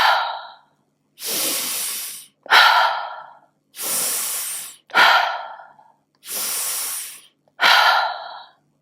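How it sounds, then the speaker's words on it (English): Continuous breathing exercise, loud and close: seven forceful breaths alternating sharp hissing inhales and longer breathy exhales in a steady rhythm with almost no pause between them. "just flow like that with no pauses between the inhale or the exhale"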